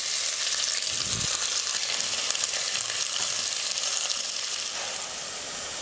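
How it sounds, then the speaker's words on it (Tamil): Two sliced big onions sauté in oil with cloves and a piece of cinnamon for a mutton curry, a constant close sizzle that holds steady and eases slightly toward the end, with no talking. "வெங்காயம் வந்து இந்த மாதிரி நல்லா கலராக வரணும், அந்தளவுக்கு நல்லா வதங்கணும்"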